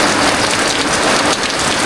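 Heavy rain pours down outdoors on a roadside, a dense, loud, unbroken hiss of drops striking surfaces with no gaps.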